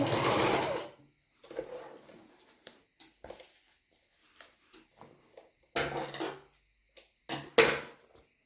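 A sewing machine backstitches elastic on a swimsuit-style bra, its motor whirring in short bursts at the start and again near the end, with small clicks and handling noises in the gaps between.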